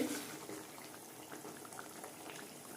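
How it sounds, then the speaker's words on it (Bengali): Gravy for begun paturi, an eggplant dish, bubbling at a boil in the pot, a soft steady crackle of popping bubbles heard close but quietly, with no voices. "ঝোলটা ভালো মতো ফুটে গেছে"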